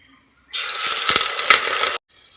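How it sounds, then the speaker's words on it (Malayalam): Appam batter poured into a heated pressure cooker on low flame, a single loud, close, steady pouring rush lasting about a second and a half. "എന്നിട്ട് നമ്മൾ ഈ ബാറ്റർ ഇതിലേക്ക് ഒഴിച്ചു കൊടുക്കുകയാണ്"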